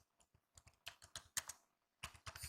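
Quiet, close typing on a computer keyboard: a few irregular bursts of light key clicks with short pauses between them, no voices.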